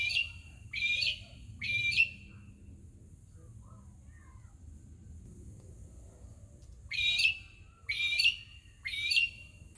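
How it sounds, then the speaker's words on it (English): Magpie-lark, also called peewee, giving loud, clear ringing calls in two bursts of three notes each, one at the start and one near the end, separated by a quiet stretch with a low background rumble. "at number 5, the Peewee, or Magpie Lark"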